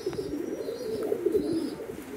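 A red Lahori pigeon coos softly in a farm loft, a low rolling series of coos repeating close by with no other voices.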